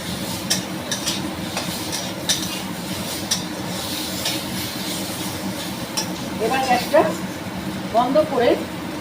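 Ghee roast eggs cook in a pan, giving a low sizzle with occasional utensil clinks and stirring scrapes, while a person talks over it throughout.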